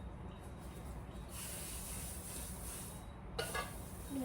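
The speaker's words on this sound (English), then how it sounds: "I am going to spray and cook the square" Cooking spray hisses onto a square baking pan in a couple of soft, short bursts, faint under the room's background noise.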